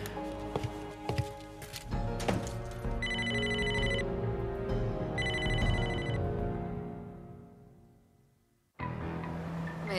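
Telephone ringing in two short electronic bursts with a pause between, over a dense background of music or ambience that drops out briefly near the end, no speech.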